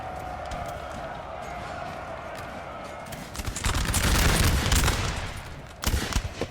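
Grenadiers fire a musket volley in the video game Napoleon Total War, a dense crackle of overlapping shots swelling over battlefield noise, with a commentator talking beforehand.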